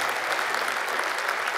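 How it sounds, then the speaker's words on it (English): An audience claps steadily throughout a talk on proving Christianity, a dense, even wash of applause from a crowd heard at moderate distance with no voices over it. "Actually, I'm really pleased you clapped."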